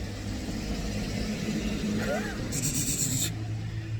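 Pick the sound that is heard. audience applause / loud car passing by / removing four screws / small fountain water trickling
loud car passing by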